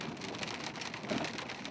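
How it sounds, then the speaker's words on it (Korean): Hail pours steadily onto a narrow, dangerous Andean mountain road, a dense, even hiss of pelting ice across the whole stretch with no break, loud and close. "갑자기 우박까지 쏟아진다."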